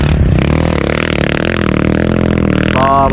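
A motorcycle engine runs close and loud with a steady rumbling drone and constant rattling clatter throughout, rising slightly in pitch near the end.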